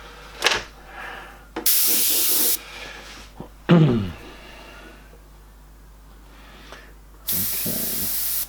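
Bursts of airbrush spraying blue paint for a Joker design, several short hissing blasts separated by pauses, with scraping and small handling noises between them.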